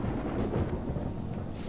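Low thunder rumbles steadily beneath falling rain in the Persona 5 Royal video game, a soft, continuous stormy wash with no voices.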